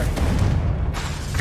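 A Confringo spell bursts in Hogwarts Legacy with a loud, booming explosion that rumbles heavily and sustains through the short moment.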